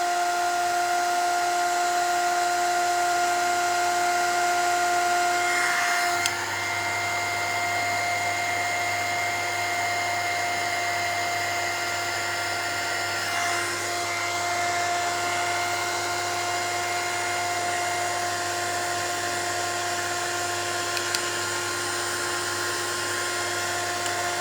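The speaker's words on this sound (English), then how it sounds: "Good thing about heat gun and the heavy body gel, it is really drying quickly" A heat gun blows steadily on heavy body gel on a mixed-media scrapbook layout, a continuous high whine with a faint shift in tone partway through, close and unbroken for the whole stretch.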